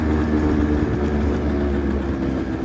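A two-stroke 49cc Honda Giorno scooter engine imported from Japan runs steadily at idle, a continuous close buzzing hum without pauses or talk.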